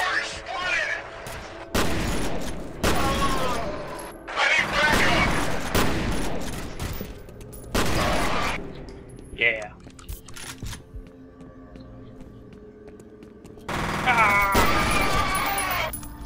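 Enemy gunfire in the shooter game F.E.A.R., loud bursts of automatic fire in several separate volleys with short pauses between them, mixed with game effects, and someone talking over parts of it.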